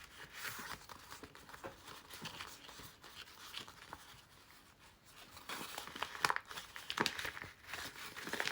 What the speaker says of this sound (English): So I'm smushing my envelope a bit